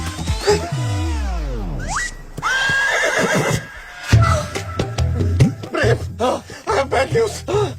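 A horse neighs loudly in a long, wavering whinny up close, followed by shorter snorts and vocal sounds mixed with people talking.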